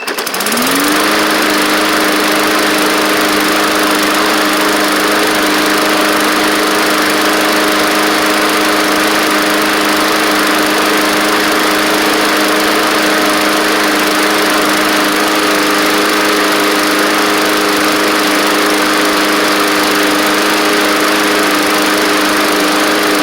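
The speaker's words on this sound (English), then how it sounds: "it's a lawnmower, not the space shuttle. So, running good." A Bolens basic push mower with a Briggs and Stratton OHV engine catches and runs at a steady, loud, close drone for the whole stretch, no voices over it.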